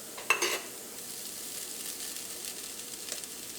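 Shredded cooked chicken tipped into hot spiced oil for a Malabar samosa filling, a soft clatter at the start giving way to a steady, even sizzle with light stirring throughout.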